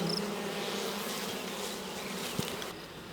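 Honey bees buzz around an open beehive during an inspection, a dense, steady hum of many insects that stays close and continuous throughout, with no voices.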